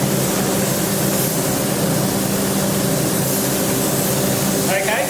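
A Graco E-10HP sprayer runs through a steady, loud hiss with a constant hum beneath it, carrying on unbroken throughout and close up.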